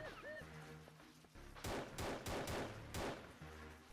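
Gunshots crack in the stealth video game DAAC, a quick burst of four or five sharp, loud shots in close succession. Quieter game ambience and low tones come before and after the burst.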